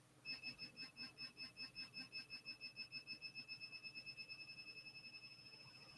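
HS-10 pinpointer metal detector beeps rapidly over a coin, a faint, high electronic pulsing in quick steady rhythm against low background hiss.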